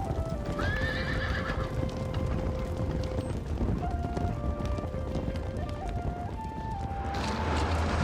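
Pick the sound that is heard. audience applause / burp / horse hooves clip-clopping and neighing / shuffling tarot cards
horse hooves clip-clopping and neighing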